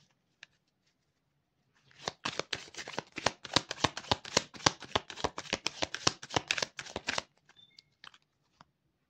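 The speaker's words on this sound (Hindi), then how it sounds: "Okay, so let me shuffle more." Tarot cards being shuffled by hand in a quick, crisp burst of riffling snaps that lasts about five seconds, close up, with a couple of faint taps before and after and no speech.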